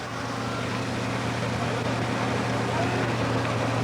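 Alcohol-fuelled racing boat engine running steadily at a 1986 race in Waupaca, Wisconsin, a continuous loud droning hum with strong low harmonics, held at an even level throughout.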